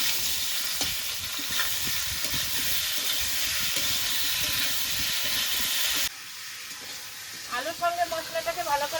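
Potatoes and spices fry in a pan with a constant loud sizzle and scraping stirring strokes. The hiss then drops away abruptly, leaving softer bubbling and clinks.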